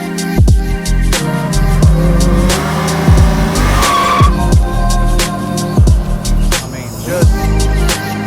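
A car runs on a chassis dyno at roughly 35 to 40 percent throttle, near 35 mph, its engine loud and close with repeated surging pulls and sharp transient bursts throughout.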